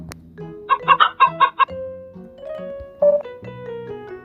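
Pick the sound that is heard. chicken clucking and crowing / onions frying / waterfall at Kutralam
chicken clucking and crowing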